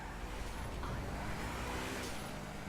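A sports car engine in the video game GTA 5 hums and rises in pitch as it revs, steady and fairly close, with no talking.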